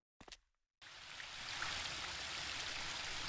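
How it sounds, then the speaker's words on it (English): In the video game The Book of Unwritten Tales 2, after a short click, steady running water rushes in and continues as a soft, even stream, faint and unbroken. "That is definitely the sound of running water."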